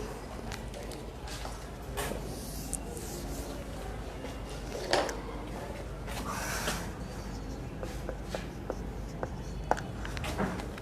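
Pen scratching on paper while someone writes math by hand, a quiet steady scratch with occasional small taps and clicks, low and close.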